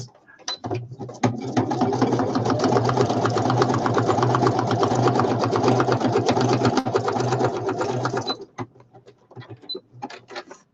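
A sewing machine stitches fabric for a woodland-themed journal, a loud, steady rapid whirring run lasting several seconds before stopping abruptly, followed by quieter handling clicks.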